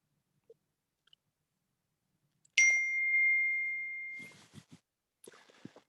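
A computer notification chime rings out once, a bright ding with a long sustained tone, then a couple of softer clicks and a second brief chime follow in a quiet room.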